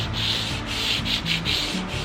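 Steady rhythmic back-and-forth scrubbing as 240 grit sandpaper works across an electric guitar fretboard, close and continuous, each stroke swelling and fading in an even pattern.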